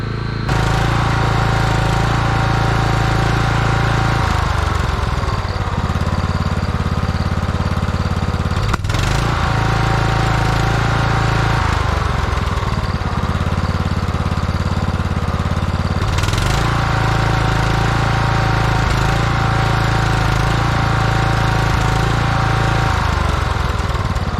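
An estate car engine fitted with a HIPA carburetor runs steadily at high speed, a loud, continuous mechanical drone with a brief sharp transient partway through and no talk.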